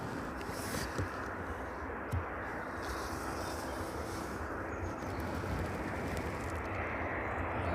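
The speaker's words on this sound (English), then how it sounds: "This one maintains some power and speed as it makes its way down runway 27 this evening." An airplane rolls down runway 27 at East Midlands Airport in the evening, holding power and speed, a steady broad engine roar from a moderate distance that persists throughout without talk.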